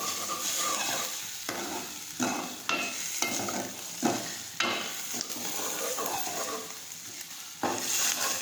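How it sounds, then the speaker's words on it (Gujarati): Chopped tomatoes and grated ginger sauté in a pan, giving a close, moderate sizzle. Repeated spoon scrapes and stirs come at a roughly even pace, about one every second. "હવે આપણે સાતળી દઈશું"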